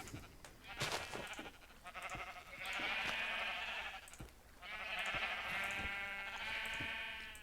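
Sheep in a video game bleat in two long, wavering calls, each lasting about two seconds, fairly close over a low background with faint ticking sounds.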